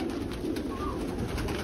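Pigeons coo in a shared loft, a soft continuous murmur of several birds layered under steady background noise, with no talking.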